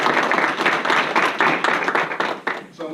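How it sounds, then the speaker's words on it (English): Audience applause for a student's parents at a school district board meeting, a close, lively burst of clapping that tapers off near the end. "of applause for her parents also, Christina Gonzalez and O'Neill Del Cid."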